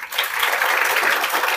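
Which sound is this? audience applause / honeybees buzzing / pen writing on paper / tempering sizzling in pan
audience applause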